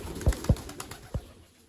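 Pigeons coo softly from a rooftop in a village, three short low coos spaced irregularly over faint outdoor background.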